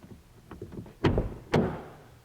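A 2005 Nissan Titan driver door latch worked by hand: faint clicks, then two sharp, close metallic latch clunks about half a second apart, each ringing briefly.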